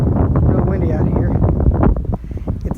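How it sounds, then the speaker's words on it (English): Strong gusting wind buffets the microphone beside the Missouri River, a heavy low rumble that swells and dips across the moment while someone speaks over it. "Real windy out here."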